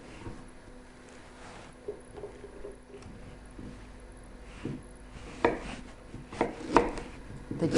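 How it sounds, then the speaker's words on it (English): A knife chops horseradish on a cutting board, soft scattered taps that pick up into sharper, louder strikes near the end, close by and alone. "Cut up the horseradish."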